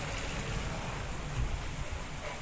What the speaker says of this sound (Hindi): देखिए गाइस कितनी तेज हो गई बारिश।